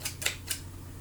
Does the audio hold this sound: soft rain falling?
no